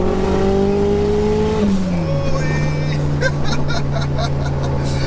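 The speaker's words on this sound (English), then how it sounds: "The engine note is so satisfying too, isn't it? It's that natural, no pops and bangs." A 630bhp Mitsubishi Evo 2 accelerates hard in third gear, a loud close engine tone climbing, then dropping at a shift and settling into a steady drone with higher pulses toward the end.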